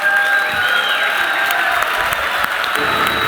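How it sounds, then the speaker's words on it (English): Audience applauding and cheering after a standing ovation is called for at an office event, sustained clapping with crowd noise and some whistles or tonal sounds running through the whole stretch. "give this amazing individual a massive round of applause"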